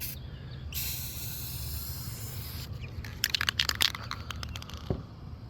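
An aerosol spray can hisses in steady bursts while coating an Aerotech Sumo model rocket, close and fairly quiet, ending with scattered light clicks and taps.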